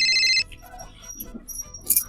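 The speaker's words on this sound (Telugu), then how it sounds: "ఫోన్ వచ్చినట్టు అవుతుందేమో నాకు" A telephone ringtone sounds loudly in a short burst at the start, then cuts off, leaving quiet room noise with a few faint chirpy sounds.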